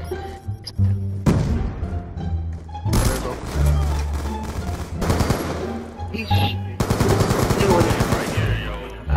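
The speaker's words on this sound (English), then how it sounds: "this man is chasing me with an LMG shooting around me" Sustained LMG machine gun fire from Black Ops 2 multiplayer comes in long, loud automatic bursts with short gaps between them, while a player talks over the shooting.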